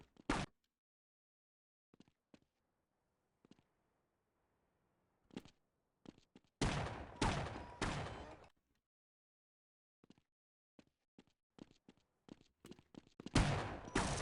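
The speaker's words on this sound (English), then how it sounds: "It's the orbital strike." Orbital strike explosions in the video game Half-Life, arriving as sharp, booming blasts in separate bursts with quiet gaps between them, one loud cluster in the middle and another at the end.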